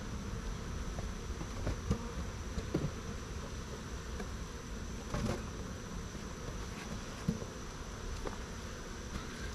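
A steady, close swarm-like buzzing of many honey bees at a hive during honey harvesting, continuous and even throughout, with occasional faint taps.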